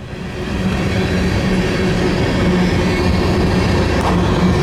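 A slow manifest freight train carrying centre-beam cars rolls steadily past close by in the Duluth area of Minnesota's Iron Range, a continuous loud rumble of wagons with faint rhythmic rail clatter.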